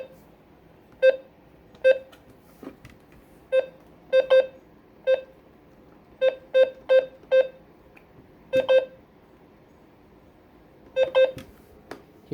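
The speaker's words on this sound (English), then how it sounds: "So first feature is going to be the button beeps" Button beeps from a FirstAlert WX-150 weather radio, the first of its two beep sets: short, clear electronic tones sounding singly and in quick pairs or triples with gaps between, close and alone.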